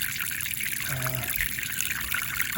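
Water draining from a water heater being flushed, a steady broadband rushing trickle that runs continuously and fairly loud throughout, with no talk over it.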